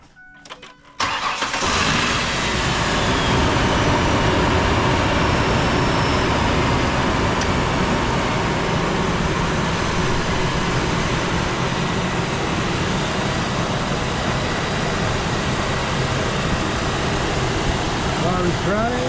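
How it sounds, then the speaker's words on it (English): A car idles steadily with its air conditioning running, a dense, even engine and blower hum that starts abruptly after a short quiet opening and holds for the full length, with a faint voice present. "I turn on the car and turn on the AC."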